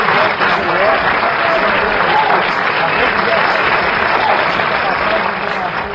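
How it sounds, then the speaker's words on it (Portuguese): An audience at an auto parts event gives a loud, sustained round of applause that stays even and full throughout, with some voices mixed into the clapping. "Uma salva de palmas a todos vocês"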